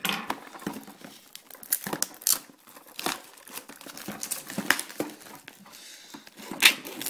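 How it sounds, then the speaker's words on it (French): Crinkling and crackling of plastic packaging as a brand-new boxed Japanese Pokémon card set (Waku Waku) is opened, with repeated close, sharp rustles and small tearing bursts throughout, no talking. "on va ouvrir cette petite boîte hein, qui est vraiment toute neuve."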